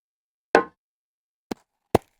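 Synthesized glass impact sound effects built in Wwise play as three separate sharp hits, the first larger with a short ringing tail and the next two quicker clicks, each isolated against silence.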